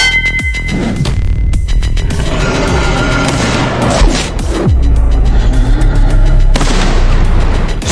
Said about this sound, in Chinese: 失去鸟头的巨大身躯轰然倒下